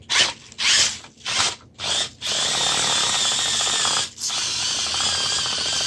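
The steering servo on a cheap toy RC rock crawler whines in four short bursts, then settles into a sustained whirring strain with one brief dip partway through.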